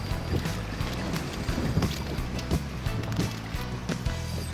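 Steady, rushing wind buffets the microphone out on the water while fishing for walleye from a boat, a constant low roar with faint knocks and bumps beneath it.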